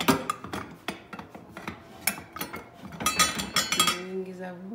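A pressure cooker is handled at home, with metallic clanks, clinks and scraping of the pot and lid in irregular close bursts, and a voice talks briefly alongside.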